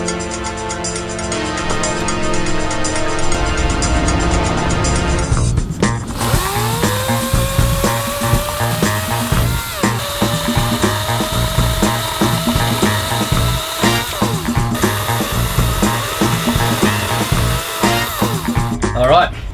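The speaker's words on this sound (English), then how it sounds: "you got to see the saw in action" An EGO 56V brushless electric chainsaw starts after some mechanical clicking and rattling, then spins up to a loud, steady high-pitched whine that holds, with a voice heard near the start.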